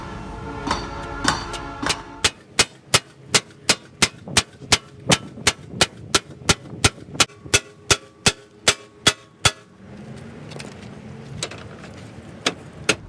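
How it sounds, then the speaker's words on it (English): Sharp metallic hammer strikes on a license plate ring out in a fast, steady series of around twenty blows, close and loud, followed by softer shuffling. "Gonna try to hammer it down"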